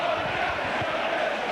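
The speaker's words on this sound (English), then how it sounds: "The Leeds crowd echo their sentiments." A Leeds rugby league crowd at a 1988 match against St Helens cheers in a broad, steady roar, distant and sustained across the short stretch.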